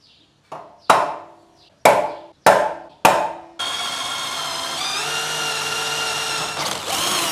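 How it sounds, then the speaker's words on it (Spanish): Drill boring four holes through a steel plate for a motorcycle bobber seat, heard as several sharp bursts followed by a long steady grinding whine, close and loud with no talk. "Lo que voy a hacer ahora es perforar 4 orificios, uno en cada punto blanco que ya marqué"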